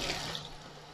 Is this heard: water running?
yes